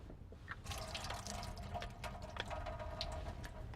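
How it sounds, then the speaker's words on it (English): Water drains from a can of sliced water chestnuts, running in a steady close trickle with scattered drips and splashes. No voices are heard. "And you just need to drain those really well."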